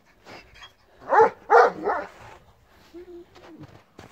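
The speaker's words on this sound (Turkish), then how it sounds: "buradan bugün göstermek istediğim köpekler bunlardı" Kangal dogs bark nearby in a few sharp, loud woofs followed by a softer whine, with quieter background noise between.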